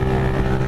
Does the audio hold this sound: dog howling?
no